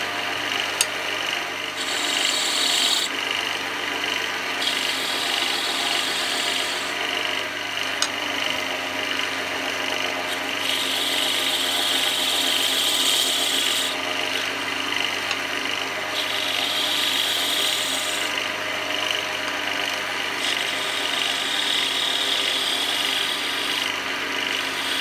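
A roughing gouge cuts wood on a spinning lathe, throwing off curled shavings; a steady, loud, continuous rasping whir with a constant motor hum underneath, heard close with no voices.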